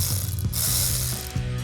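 A ratchet works a bolt on a 440 engine, its pawl clicking in quick repeated strokes close up, a steady metallic ratcheting over less than two seconds with no talk.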